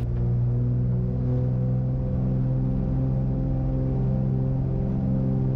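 A light aircraft's piston engine powers up for takeoff, a loud, steady, throbbing drone that holds unbroken throughout.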